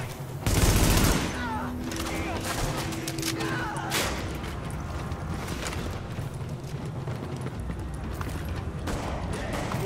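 Gunfire in the video game The Division, a loud burst near the start followed by steady rattling shots and crackle under a busy game mix.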